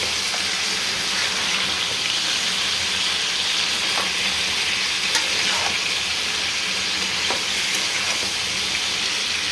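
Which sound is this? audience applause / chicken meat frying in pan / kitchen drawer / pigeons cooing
chicken meat frying in pan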